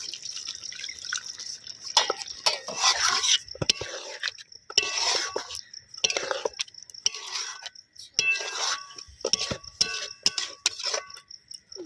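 Water being poured into a pan of simmering egg and potato curry, giving splashing, dripping and bubbling bursts with light metallic clinks, close and fairly loud, coming in irregular waves.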